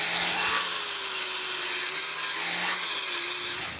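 Abrasive sanding on a rusty brake drum, a steady continuous rasping scrape that swells and eases slightly in rhythm as the paper works the metal, close and fairly loud with no talking.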